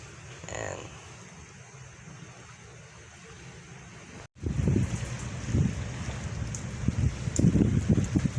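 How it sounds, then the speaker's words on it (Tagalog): Wind and rough waves buffet a small boat at sea on a rainy morning, starting as a faint hiss and turning into loud, gusty rumbling wash and splashing in the second half, with a voice audible early on. "tayo medyo maalon, tas maulan pa"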